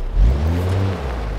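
A steady engine hum with a low rumble from a Mercedes-Benz SUV in GTA 5, rolling along at low speed, continuous and fairly loud throughout.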